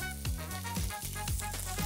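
Ginger, onion and carrot fry in oil in a pan, giving a steady close sizzle with faint scraping stirs at regular intervals.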